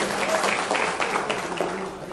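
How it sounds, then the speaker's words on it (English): An audience at a film DVD launch event applauds in a brief burst of dense, steady clapping, with a voice faintly heard beneath. "I think that deserves an even louder round of applause"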